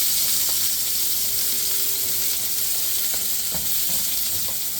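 Sliced green onions, white ends and green tops, sizzling steadily in a hot pan for Mongolian beef while being stirred, with a constant close frying hiss and occasional soft scrapes and clicks of the utensil.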